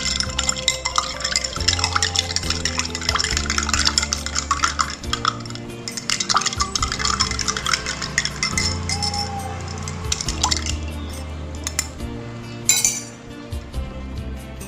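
Ice cubes clink against the sides of a glass of water as they are stirred, a steady run of close, bright chinks and light rattles with no talking.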